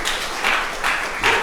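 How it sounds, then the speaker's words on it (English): Room audience at a crypto and AI token summit keynote breaking into a warm round of applause, a dense broadband patter of many hands swelling in short waves, fairly close and filling the hall. "warm round of applause here in the room"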